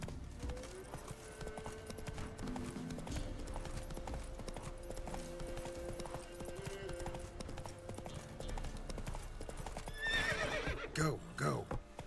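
Roach the horse gallops in The Witcher 3, with a steady, fast clip-clop of hooves running under game music and a loud whinny breaking out near the end.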